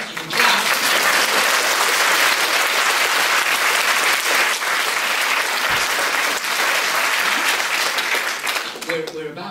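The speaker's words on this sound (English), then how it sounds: "Yes, you can clap." Loud, sustained applause fills a room at the 2011 Booker Prize library book event and holds steady for several seconds before it begins to thin out.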